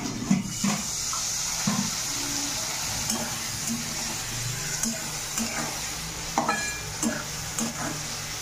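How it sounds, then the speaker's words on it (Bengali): Vegetables frying in a pan with a splash of water give a steady, close hiss, with scattered clicks and light stirring knocks throughout. "সেটা দিয়ে জল দিয়ে ভেজে দেবো।"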